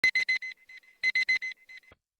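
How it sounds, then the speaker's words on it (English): Phone alarm going off in two repeated bursts of rapid electronic beeps, each a quick run of sharp tones with brief gaps, fairly close and clear with no talk. "Then I realized it was just my phone alarm."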